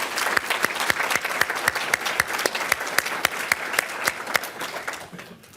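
A round of applause at a university pharmacy graduation ceremony, many hands clapping in a dense, even rhythm for several seconds before thinning out at the end, no voices over it.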